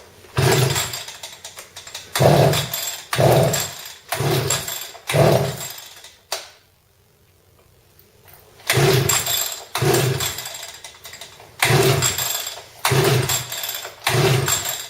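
A scooter engine is cranked over repeatedly in loud, close bursts of rhythmic churning that fail to catch, with a few seconds of near silence partway through before the cranking resumes.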